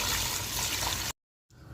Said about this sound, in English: Right now I'm going to add water